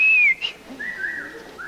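Whistling from a television talk-show studio audience: a loud, high sustained whistle at the start, then fainter scattered whistles from around the room.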